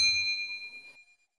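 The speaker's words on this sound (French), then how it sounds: "en activant la cloche de notification" A single bright notification bell ding, clean and metallic, ringing out and decaying over about a second on its own.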